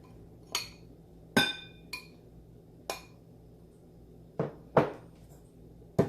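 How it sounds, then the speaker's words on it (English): About seven sharp, isolated clinks ring out as wheat flour goes into a bowl for banana fritters, with utensils tapping against the bowl in a quiet kitchen. "In a bowl, I am going to add this wheat flour"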